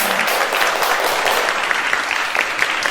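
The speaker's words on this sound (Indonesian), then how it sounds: "Ya, tepuk tangan untuk kita semua." A group of people at an MC school session in Surabaya claps together, a loud, continuous round of applause that fills the room and stays level throughout.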